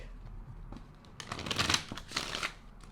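Tarot cards shuffled by hand, close and soft, with a few light riffles and then a denser flurry of papery flicks in the latter half, alone against quiet room tone.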